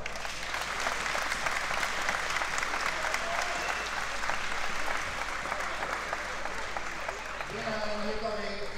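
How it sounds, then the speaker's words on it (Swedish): Steady crowd applause fills an MMA league event hall, a dense wash of clapping lasting throughout with some voices in the crowd and a brief bit of speech near the end. "En stor applåd"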